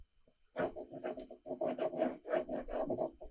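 A pen scratching across paper in quick back-and-forth strokes, close and fairly loud, with a dry rasping texture and short pauses between bursts.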